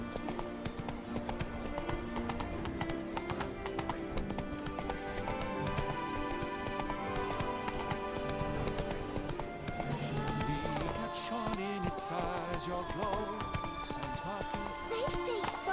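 Roach the horse gallops in The Witcher 3: Blood and Wine, a steady, rapid clip-clop of hooves that runs through the whole stretch beneath game music, with voices talking at times.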